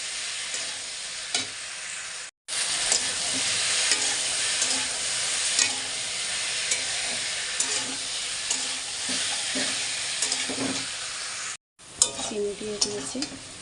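Spices sizzle and crackle in hot mustard oil with black cumin while being stirred for an elephant apple pickle, a steady frying hiss with scraping strokes, briefly cut off twice.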